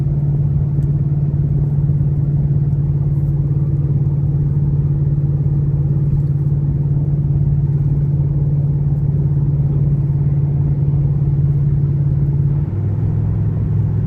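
A truck's 6.8 engine drones steadily and loudly while towing a trailer up a long highway incline at speed, a constant low rumble with road noise that holds level before its pitch drops slightly near the end.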